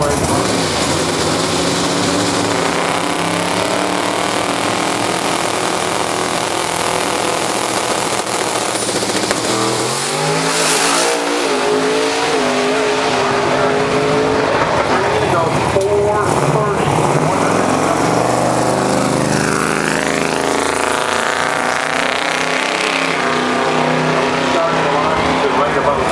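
Drag racing cars roar hard down an eighth-mile racetrack, a loud continuous engine blare with rising pitch sweeps as they accelerate, commentary voice mixed in.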